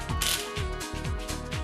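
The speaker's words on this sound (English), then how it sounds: "always tighten 4 bolts first in a crisscross pattern" A ratchet drives bolts on a Pulsar 200 NS motorcycle engine's head assembly, giving a busy run of mechanical clicking with several repeated sweeping strokes at a steady pace, close and fairly loud, with no voices.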